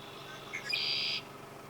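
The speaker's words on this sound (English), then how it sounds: "It's a red-winged blackbird." Red-winged blackbird giving a single bright, buzzy call of about half a second, rising out of a quiet outdoor background, moderately close and alone.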